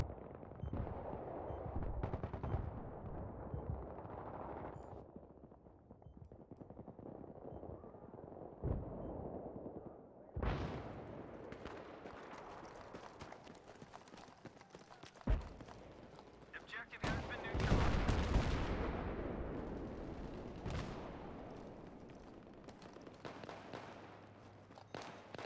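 Battlefield 3 gameplay gunfire rattles in rapid bursts and booming shots, mixed with explosions and heavy rumbling, shifting between distant and close fire over a continuous battle din, with voices heard at times.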